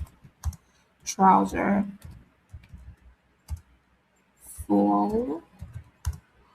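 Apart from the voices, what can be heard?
typing on a computer keyboard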